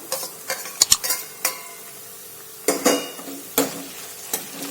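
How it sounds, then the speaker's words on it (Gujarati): Chopped tomato sautéing with onions and chillies in a pan while cooking paneer bhurji, with a soft continuous sizzle and several sharp spoon clinks and stirring scrapes against the pan. "આપણું ટામેટું एकदम सरस सॉफ्ट न थाय त्यां सुधी तेने आपणे सातळीशुं।"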